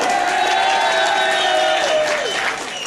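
A debate audience of Islamic boarding-school students applauds together, a dense steady wash of clapping and crowd noise with some tonal ringing above it, holding strong before easing off near the end.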